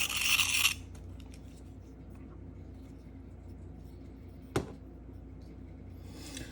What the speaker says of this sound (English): rub it all over the stone